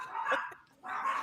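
Dogs barking as a sound effect during a tabletop game session, two quick bursts of yipping barks close by with a short gap between them.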